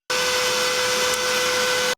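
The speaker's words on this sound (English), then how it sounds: "this is how well the Tilde Evo is canceling out the loud sound of the vacuum cleaner" A loud vacuum cleaner runs steadily and close by, a continuous dense roar with a fixed whine on top, with no one speaking.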